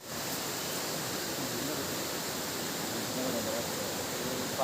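Abbey Falls waterfall gives off a steady, dense hiss of rushing water, even and unbroken, heard from a forest path with a faint voice in the background.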